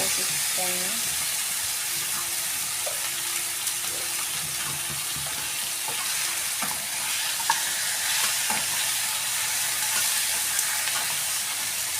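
Large marinated chicken pieces frying in a pan for a roasted-coconut chicken curry, a continuous sizzle with stirring clatter and occasional scrapes throughout.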